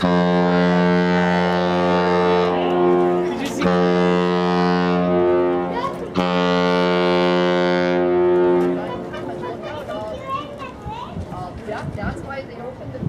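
The freighter Cedarglen sounds its deep, loud horn on arrival in Duluth, long sustained blasts, then ambient harbor noise and faint voices as the horn ends.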